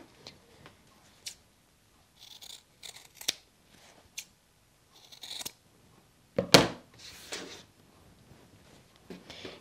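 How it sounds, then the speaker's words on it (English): Scissors snipping the corner off a folded quilted fabric triangle, with several short, sharp, close clicks scattered among brief pauses and light handling rustles. "Just go ahead and clip the triangle, leaving about a quarter inch seam allowance."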